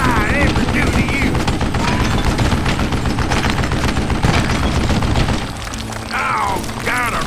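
Rapid gunfire rattles through a Call of Juarez Gunslinger shootout, loud dense bursts running almost continuously before easing slightly near the end, with a voice talking over the shots.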